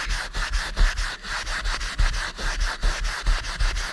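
Close, steady rubbing as a seat belt mark is cleaned inside a Tesla Model 3, with quick repeated scrubbing strokes in an even back-and-forth rhythm and no voices.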